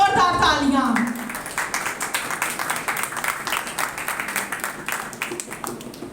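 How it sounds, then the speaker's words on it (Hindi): A church congregation breaks into rhythmic clapping after a brief spoken call, the claps coming in a steady, even beat that carries on for several seconds. "उसके नाम की जोरदार तालियां"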